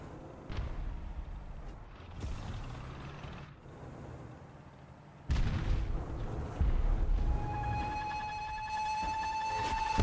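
Gunfire from an online shooter video game comes in bursts of booming, crackling shots that rise louder midway and hold steady, with a faint tonal whine layered near the end and no talking.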